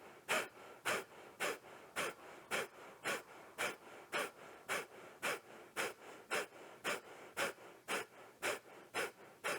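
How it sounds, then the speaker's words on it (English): Forceful rhythmic exhales through the nose during a breathing exercise, about twenty sharp close bursts at a steady quick pace, each followed by a passive inhale, with no speech. "we're breathing forcefully out through the nose, the snapping in and up of the navel center of the belly"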